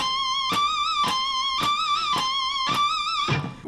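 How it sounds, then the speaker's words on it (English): Sharp, squealing electric guitar pinch harmonics picked one after another at a steady pace, each bright overtone ringing out over a distorted tone. "It's less articulate than the pinch harmonic,"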